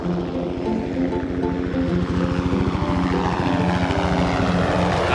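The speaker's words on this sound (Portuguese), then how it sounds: "Vejam um helicóptero voando para longe" A helicopter's rotor chops steadily and loudly, the rapid thudding beat holding up close before thinning slightly as it moves off.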